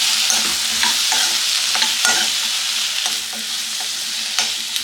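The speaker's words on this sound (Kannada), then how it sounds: "ಇದನ್ನೆಲ್ಲ ಇದೇ ರೀತಿ ಎಣ್ಣೆಯಲ್ಲಿ ಫ್ರೈ ಮಾಡ್ಕೋಬೇಕು." Medium-cut tomatoes frying in oil for capsicum curry, a loud continuous sizzle broken by repeated spatula scrapes and stirs against the pan, close up and without speech.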